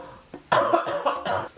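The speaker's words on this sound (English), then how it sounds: "I have this really strange cough." A single strange cough from a person, a short burst followed by a louder, rougher cough that breaks into several hacking pulses, heard close and alone.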